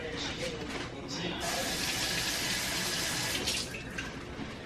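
Tap water runs steadily into a sink while peeled potatoes are rinsed under it, a close, continuous splashing hiss with brief shifts as the potatoes move through the stream.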